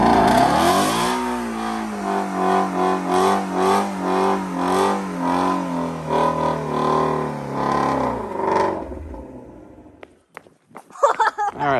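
A Ford Mustang Shelby GT350 doing a tire burnout, its engine revving hard and wavering loudly for about nine seconds before cutting off, followed by a few sharp knocks.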